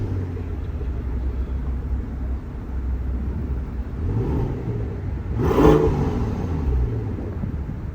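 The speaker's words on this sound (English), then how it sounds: "This is the sound that it makes the mighty V12" Twelve-cylinder engine of a Mercedes S600 Maybach W222 accelerating: a smooth, muted low hum from inside the car that rises in pitch and swells gently, peaking briefly before settling back into a steady drone.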